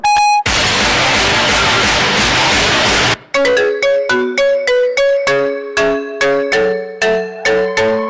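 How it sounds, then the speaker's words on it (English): A mobile phone ringtone plays loud and close in a school annual day stage show, opening with a noisy burst, then a repeated run of bright, evenly spaced melodic tones, no talk. "Mom calling. Come pick up your phone."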